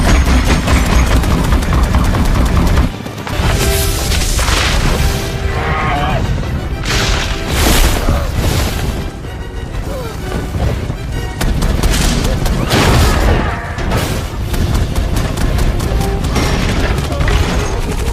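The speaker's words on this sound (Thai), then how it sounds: "ยานรบทุกลำอาวุธพร้อมยิงได้เลย" Combat aircraft in an Avatar film battle scene unleash loud, continuous gunfire and booming explosions, a dense roar of crashes and bursts with voices mixed in.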